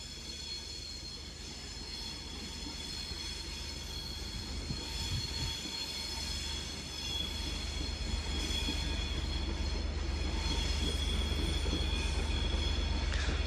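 A Class 390 electric train departs Crewe station, rumbling past steadily with wheels squealing and a high whine, its noise gradually building louder over the whole stretch.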